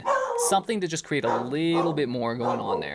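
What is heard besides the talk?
dogs barking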